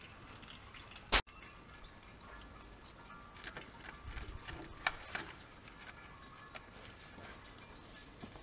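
Engine oil drips from a Fiat Bravo during an oil service, a few soft scattered drips and faint mechanical clicks around one sharp, loud snap, in a quiet garage with no talking.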